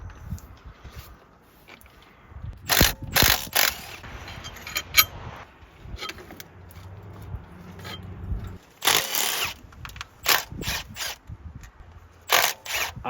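A ratchet wrench works bolts loose on a 12 valve Cummins engine while the valve covers come off ahead of unbolting the head, giving intermittent bursts of sharp mechanical clicking with quiet gaps between them and no talking.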